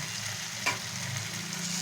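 Spice paste with mustard paste added sizzles steadily in a hot pan while cooking a kokila fish dish, a continuous close frying hiss with one brief louder crackle.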